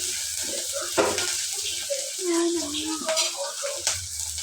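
Chicken curry cooking in a pan at home, with soft sizzling and stirring scrapes, a few sharp clinks of a utensil against the pan, and faint background sounds throughout.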